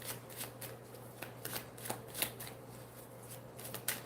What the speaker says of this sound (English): Let's get some oracle cards for Cancer.